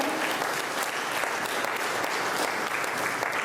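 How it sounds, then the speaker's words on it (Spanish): Congregation in a church applauds loudly and evenly for a few seconds, a thick sustained roar of many hands clapping with no speech over it. "Puede darle un fuerte aplauso al Señor, porque en Él podemos confiar."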